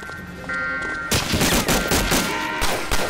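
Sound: gunfire in Medal of Honor: Allied Assault video game

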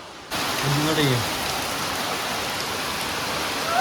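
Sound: heavy rain outside

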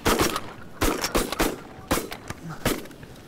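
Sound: shotgun shots at geese, Beretta, Winchester ammo

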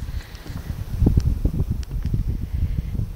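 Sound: wind blowing on the pier

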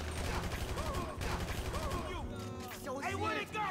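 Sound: gunfire in Grand Theft Auto V video game

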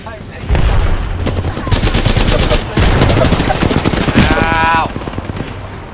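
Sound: gunfire in the video game Apex Legends

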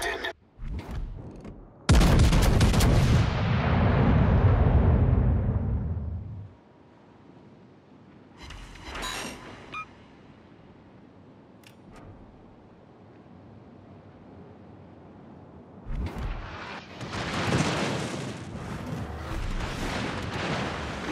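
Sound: naval guns firing at enemy battleship, from a video game

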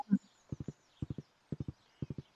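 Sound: horse hooves galloping in Stardew Valley video game

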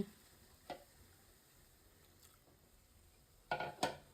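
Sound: frying and stirring in a pan

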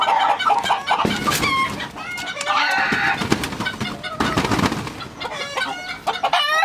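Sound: chickens clucking

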